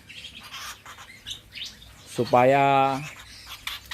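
Birds chirp and call inside an aviary, with one clear, strong call standing out briefly over faint chirping, while a person talks quietly throughout.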